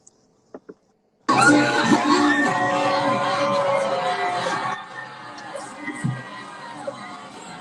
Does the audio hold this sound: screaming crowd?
yes